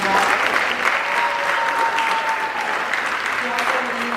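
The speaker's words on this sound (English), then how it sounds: "let's give him a round of applause as well" An audience at an Independence Day event applauds steadily for several seconds, dense sustained clapping with a few faint voices mixed in.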